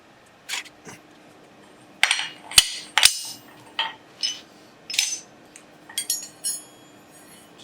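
A hammer striking a rivet on forged blacksmith's double calipers, a series of sharp metallic clinks and taps in uneven rhythm, close and clear against a quiet background.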